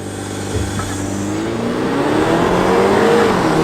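A BMW 230i xDrive four-cylinder engine revs hard and climbs steadily in pitch as it accelerates from 0 to 60, loud and close, with the drone rising through the gears.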